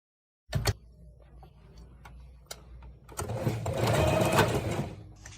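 A sewing machine stitches a seam along the top of a dress sleeve to attach elastic, with a couple of sharp clunks at the start, then a steady mechanical whir that speeds up into a louder, faster run of stitching, close and alone.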